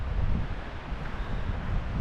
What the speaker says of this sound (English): It's not a good time for the wind to change direction.